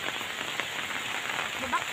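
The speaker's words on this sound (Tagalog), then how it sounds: "Hangin na, may hangin na, may ulan na." Steady rain patters on a surface during a typhoon with wind, a constant wash of drops close by with a faint voice briefly underneath.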